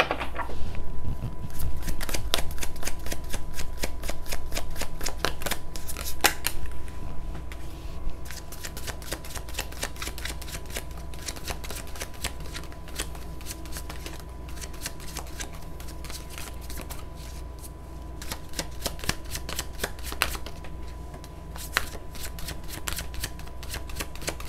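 Tarot cards shuffled by hand over and over, a quick steady riffling and flicking that runs nearly throughout, close and fairly quiet, with no talking.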